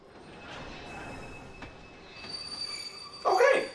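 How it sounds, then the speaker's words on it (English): A train rolls along in Kingdom Hearts II with a low rumble, ending in a loud, shrill wheel squeal near the end. No one speaks. "Oh hey, it's the wizard train!"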